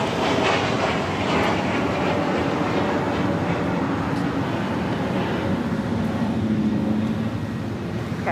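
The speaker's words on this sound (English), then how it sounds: "It's Challenger 350 coming in from Santa Barbara" A Challenger 350 business jet arriving at LAX after a flight from Santa Barbara, its engines a loud, continuous broadband roar holding steady throughout, with a faint falling tone late on.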